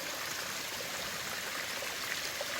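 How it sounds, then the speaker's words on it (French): A river runs beside a mountain hiking trail, its water rushing and trickling in a steady, fairly faint wash with no voices. "c'est la rivière"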